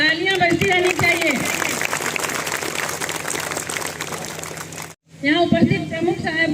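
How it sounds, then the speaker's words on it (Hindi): Audience applause at a teacher farewell and honour ceremony in Latehar fills the background as a steady wash of clapping, running under a voice speaking over a microphone, with a brief drop in the noise before the clapping resumes. "तालियां बजती रहनी चाहिए।"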